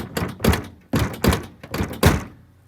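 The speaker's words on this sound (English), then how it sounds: "I don't like slamming the hood." Several heavy thunks in quick pairs as the hood of a 1986 Camaro IROC-Z is lowered and pressed shut, close by with no talking.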